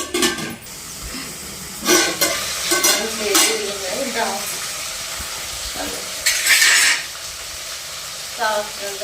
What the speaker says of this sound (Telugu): టమాటాలు కూడా వేసేస్తున్నా. వేగాలి, మంచిగా మగ్గాలి. ఇట్లా కలుపుకోవాలి. మంచిగా వేగాలి.